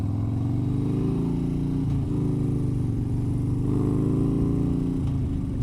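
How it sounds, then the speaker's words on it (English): A motorcycle rides along a road in Madison, Alabama, its engine droning loud and steady up close with slight shifts in revs and no talk over it. "Let you guys enjoy just the sound of the bike and me shutting up."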